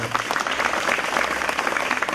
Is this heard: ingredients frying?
no